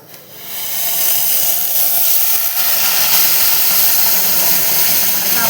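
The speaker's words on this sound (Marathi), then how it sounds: "आता आपण पाणी सोडून घेतलं भगराला छान" Water hits hot oil and barnyard millet (bhagar) in a pan, bursting into a loud, steady steam hiss and sizzle that holds strong to the end.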